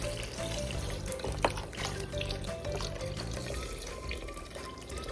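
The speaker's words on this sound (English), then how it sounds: "we're gonna go ahead and add our beef broth." Thirty-two ounces of beef broth pour steadily into a pot of braised short ribs, a continuous liquid gush heard under background music.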